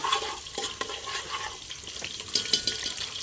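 Onion, green chili and tomato frying in a pan while a utensil stirs and scrapes through them, a soft steady sizzle broken by irregular clinks and scrapes, close and fairly quiet.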